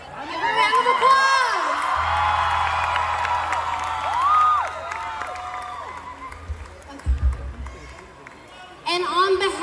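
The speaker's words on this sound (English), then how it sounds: "Give her a round of applause." A festival crowd at an Eritrean festival in Dallas cheers and claps during an award presentation, with whoops and shouts rising over an amplified voice speaking and low music or rumble underneath, swelling again at the end.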